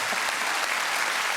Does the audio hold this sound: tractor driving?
no